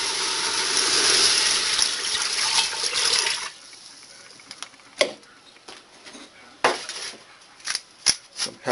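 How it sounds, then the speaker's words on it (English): Water gushes steadily into a preheating pressure cooker holding chicken for soup, then cuts off, leaving scattered clinks and light knocks against the pot. "I'm also going to add in 4 cups of water."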